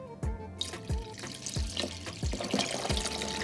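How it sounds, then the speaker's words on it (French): Water poured into a cooking pot for harira soup, a close splashing gurgle with a rhythmic, glugging pulse as it fills, heard alone. "on rajoute de l'eau jusqu'à ras-bord"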